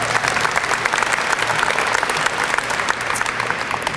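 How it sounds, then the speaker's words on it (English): Dense, steady applause from an audience at a university student-athlete awards ceremony, many hands clapping together, filling the room evenly throughout without letting up. "you can clap for yourself"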